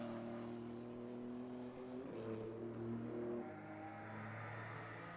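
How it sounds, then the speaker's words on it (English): A rally car drives through a chicane at an Eastern European Rally Championship round in Poland, its engine note rising and falling as it brakes and accelerates, heard from a moderate distance with no talking. "And we got Pius on screen as he goes through the chicane."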